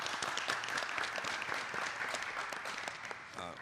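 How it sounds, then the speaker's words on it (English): Audience applause at a public-service event on voter registration fills the moment, a dense, loud wash of clapping that carries on for a few seconds and then tapers slightly. "let's give them a round of applause"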